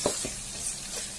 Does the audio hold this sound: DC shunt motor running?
no